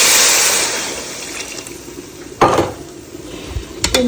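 Water poured into frying rice in a pot makes a loud, rushing hiss that fades, followed by a sharp clank of the pot and a brief bubbling splash.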